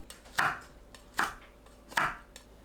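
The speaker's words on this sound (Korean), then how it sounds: "청양고추, 홍고추는 어슷 썰어줍니다." A knife chops through green and red chili peppers cut diagonally on a cutting board, three crisp, separate board strikes spaced evenly and close up, with a few fainter taps between them.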